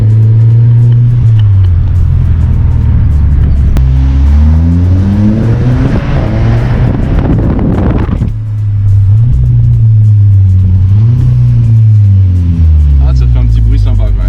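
Turbocharged Volkswagen Golf engine revving on a narrow street, loud and close, with repeated rising and falling revs echoing off nearby walls; voices talk over the engine throughout.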